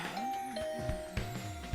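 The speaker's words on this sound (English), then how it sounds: "Better ring the bell first." A doorbell chimes inside the video game The Hundred Line, with tones over a soft game soundscape and a few short thumps near the end.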